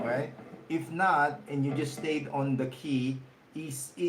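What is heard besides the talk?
None of the usual background noises is heard.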